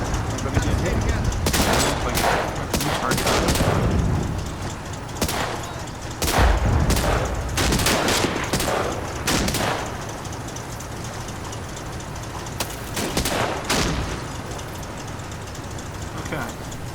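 Artillery and gunfire barrage in the World War II game Combat Mission: Battle for Normandy, with repeated sharp bursts and heavy impacts striking in irregular clusters over a constant rumbling battlefield background.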